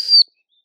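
A single short, shrill whistle blast sounds once, bright and piercing, lasting about a fifth of a second before cutting off to silence, with no talking.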